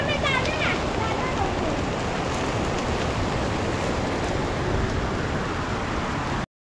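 Heavy first monsoon rain pours down in a Konkan village, a dense, steady roar of water close by that holds unbroken before cutting off abruptly.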